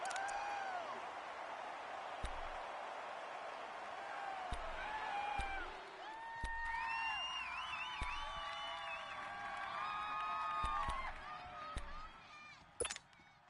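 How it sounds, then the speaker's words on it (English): Stadium crowd noise inside a dome in a football video game, a steady loud roar with rising and falling cheers and whistles, sharp thuds and a brief burst near the end. "The crowd here in the Dome making things difficult."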